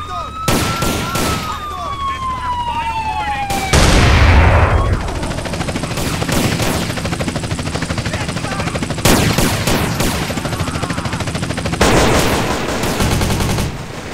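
Gunfire in GTA San Andreas with a Trevor rage mod: dense bursts of automatic shooting come in loud clusters, mixed with a wailing police siren and an explosive boom, with some voice underneath.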